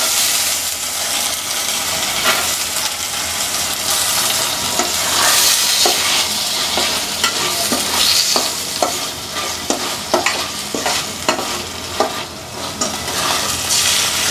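Peas and tomatoes fry and get stirred in a pan for a cauliflower and red lentil dish, a constant loud sizzle broken by repeated scraping and clacking spatula strokes, close up.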